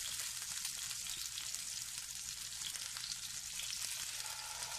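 Chicken breast frying in oil in a pan for pechuga poblana, a steady close hiss and crackle of sizzling oil that holds evenly throughout with no talking.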